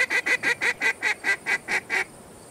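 Goose in the Hunting Simulator 2 video game honking ten times in a quick, evenly spaced series, loud and close, then stopping abruptly.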